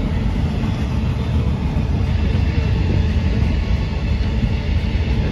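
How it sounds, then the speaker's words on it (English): A train rumbles steadily past a golf course at Chambers Bay, a continuous loud low roar with no breaks, heard alone. "It's so cool with the train."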